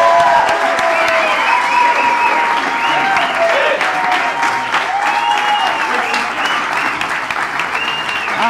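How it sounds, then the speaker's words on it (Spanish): Sustained, loud applause from a theater audience rolls on without pause, with voices and cheering woven through the dense clapping. "Un aplauso."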